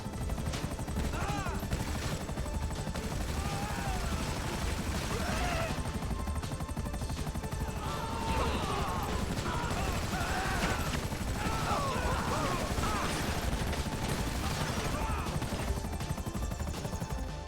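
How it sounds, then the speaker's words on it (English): The Savage attack helicopter's main gun firing in GTA 5 Online: continuous rotor drone with repeated bursts of cannon fire and impacts throughout, mixed with scattered game sounds and a voice speaking now and then. "So now when you shoot a PED with the gun, they kind of go flying back from the sheer force of the weapon."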